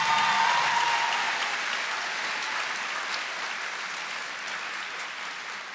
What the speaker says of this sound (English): give a round of applause for your support